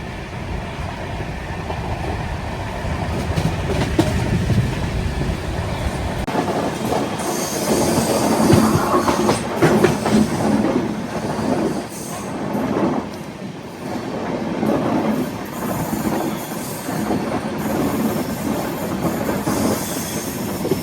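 The Navyug Express passenger train runs at high speed on an Indian line from Katra toward Vijayawada, with a steady loud rumble, rhythmic clickety-clack of wheels over rail joints and faint metallic squeals heard from inside the coach.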